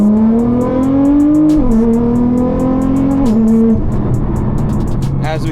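A Nissan GT-R pulls away on a short drive, its engine note rising steadily through two gear changes before settling into a lower, even cruise, with some light rattling and faint speech-like noise mixed in.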